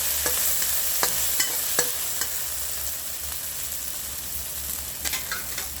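Steady oily sizzling fills a pan as frog meat is stir-fried, while a utensil scrapes and taps against it a few times, close and continuous.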